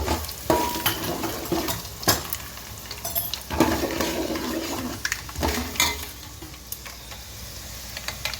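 Curry leaves, dried chilies and tamarind water go into a hot pan, setting off a close, loud sizzle broken by repeated bursts of spattering and scraping stirs against the metal.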